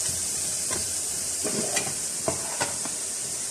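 Cumin and garam masala roast in a hot pan for a khara masala mutton dish, giving a steady soft sizzling hiss with a few light stirring scrapes and no talk.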